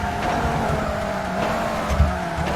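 A racing car brakes hard in TOCA Race Driver 3, a 1960s GT race, tires squealing over a steady engine drone that runs throughout, with a brief skid burst near the end.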